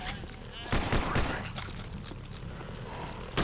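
Gunfire in the zombie video game Day of the Zombie, with a few sharp, loud bursts clustered around the first second, then quieter game noise and a voice.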